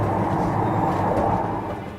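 A diesel light railway train arriving at Walsingham on the Wells & Walsingham Light Railway rumbles steadily with a low engine drone and wheel noise, fading slightly toward the end.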